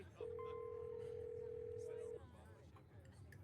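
A telephone dial tone from the video game Scarlet Hollow holds steady for about two seconds, a clean, constant pitch over a low background murmur, then cuts off abruptly.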